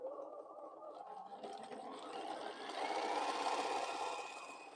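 A sewing machine stitches a quilt seam with a faint, fast whirring rattle that builds slightly in the middle and keeps running steadily on its own.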